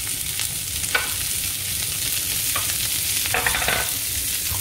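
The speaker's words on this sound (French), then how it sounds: "Je vais mettre les oignons." Sliced onions fry in butter in a pan that still holds oil from a grilled steak. A steady close sizzle hisses throughout, and a few louder stirring scrapes break through it.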